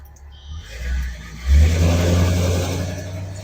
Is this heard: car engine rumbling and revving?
yes